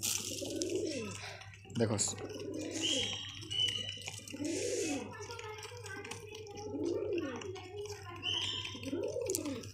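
Pigeons coo in a slow repeating rhythm near a scatter of black chickpeas, soft throaty calls recurring every couple of seconds while someone talks and a sharp tap sounds once.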